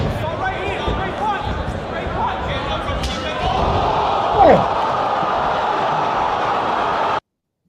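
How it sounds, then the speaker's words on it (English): A crowd at a table tennis match reacts to a play, a steady roar of voices that swells midway with a sharp slap of impact, then cuts off abruptly. "that crowd reaction was sick"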